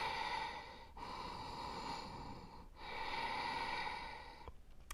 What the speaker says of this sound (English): I'm going to take 5 breaths here.